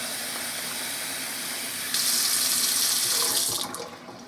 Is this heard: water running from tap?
yes